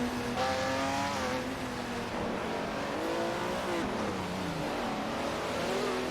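Race cars in a racing simulator game at Road Atlanta roar continuously, their engine notes rising and falling as they accelerate and shift, loud and steady with no talk.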